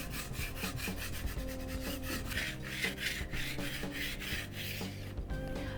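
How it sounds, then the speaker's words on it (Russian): A Venetian plaster wall surface is polished by hand, a continuous close rasping rub that sweeps back and forth in steady strokes without pause. "Таким образом подполировали всю поверхность."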